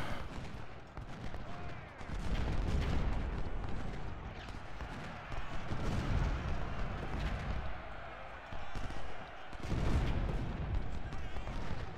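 Musket and artillery fire in a Civil War battle from Ultimate General: Civil War, a rolling din of distant volleys and booms that continues throughout, with shouting voices mixed in.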